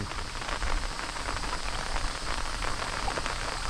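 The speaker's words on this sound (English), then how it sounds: "We have a little bit of rain." Steady rain patters on a surface, a dense hiss of drops with no other sounds standing out.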